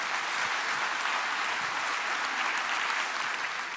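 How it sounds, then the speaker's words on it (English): Audience applause at a lightning-talks conference session, a dense steady roar of many hands clapping throughout, sustained and even with no voices over it. "Please applaud Patrick"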